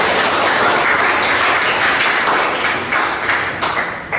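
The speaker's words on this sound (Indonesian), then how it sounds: "Tepuk tangan." Classroom applause from a group of high school students, a dense steady clatter of many hands clapping at close range that continues throughout, thinning slightly toward the end.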